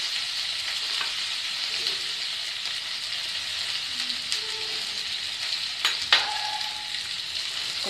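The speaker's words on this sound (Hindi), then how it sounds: "इसको थोड़ा सा फ्राई करेंगे ताकि मसाला मिर्च के ऊपर रेड चिली से लग जाए अच्छे से।" Red chilli sauce with salt sizzles steadily in a pan over low heat, a constant hissing fry broken by a few faint scrapes and light clicks, close and alone with no talk.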